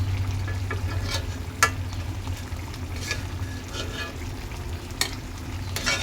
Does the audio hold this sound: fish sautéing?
yes